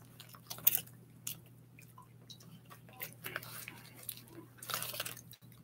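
Close, soft wet chewing and crunching of a sour pickled plum, eaten as a snack from a Japanese box, with quiet irregular bites, smacks and faint crinkles over low room hum.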